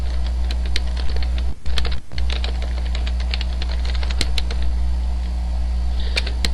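Fingers type quickly on a computer keyboard while entering code, with bursts of close, crisp key clicks over a low steady hum and two brief pauses.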